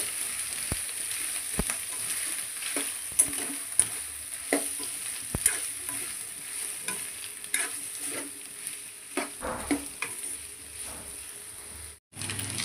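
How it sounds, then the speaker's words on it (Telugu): Blood fry cooks in a frying pan with a low sizzle as a spoon stirs and scrapes it in irregular clinks and taps, close and moderately quiet, without voices. "ఇలాగా కలుపుకుంటూ ఉండండి, లేకపోతే మాడిపోతుంది."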